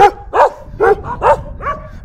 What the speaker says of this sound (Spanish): Ya me ladraron los chuchos.